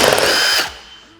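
A power tool whirs briefly while removing T40 bolts from a Polaris RZR Pro R 4 door, giving a loud, close high-pitched spin of about half a second that cuts off and fades.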